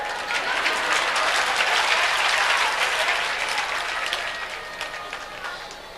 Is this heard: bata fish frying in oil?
no